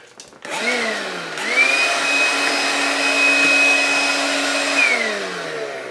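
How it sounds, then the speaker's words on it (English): A small vacuum cleaner switches on and runs with a steady, loud whine as it cleans out the extrusion track of a 3D printer, then winds down at the end. "By vacuuming them out with a stupid little vacuum like this."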